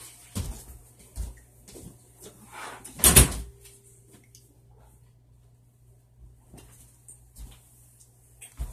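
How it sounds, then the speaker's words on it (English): A door is pushed shut indoors with one sharp thud, preceded by a few light knocks and shuffles, then quiet room tone with faint scattered taps. "Hold on, let me close the door."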